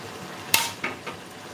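Pumpkin pieces dropped into a cooking pan, a sharp clatter followed by two softer knocks and light scraping, close and alone without talk.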